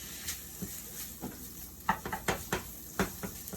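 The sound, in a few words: ham sizzling in a pan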